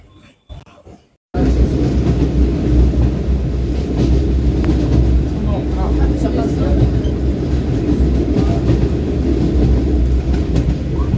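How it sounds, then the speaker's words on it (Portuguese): Train rumbling loudly and steadily through a railway station in Lisbon, starting abruptly after a brief quiet moment and continuing as a dense, continuous roar with faint clatter. "aqui é a estação dos comboios"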